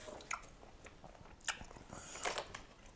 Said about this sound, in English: First bite.